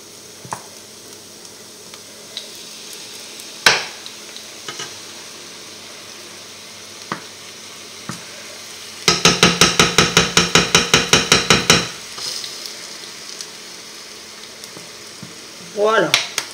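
Duck strips frying in a pan as honey is added, a continuous close sizzle broken by occasional knocks and a rapid burst of regular tapping midway, with a short clatter near the end and no talk.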